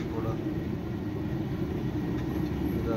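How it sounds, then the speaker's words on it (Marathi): A small toy train carries riders around a track at a fair, giving a steady low rolling rumble throughout, fairly loud and continuous with no clear talk on top. "आता इथं थांबन रेल्वे झाला राऊंड झाला."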